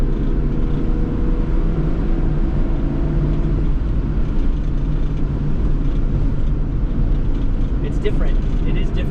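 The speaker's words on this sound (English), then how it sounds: "It's a relatively quiet engine." A 1992 Suzuki Every kei truck cruises at 60 kph, its small engine giving a low, steady hum and road rumble inside the cab that persists throughout.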